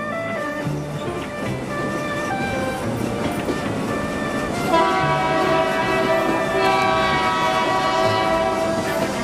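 Sustained horn from a locomotive in the Indian Police Train Simulator driving game, blaring continuously and loudly for the whole stretch over steady train rumble, with a second, brighter horn tone joining midway.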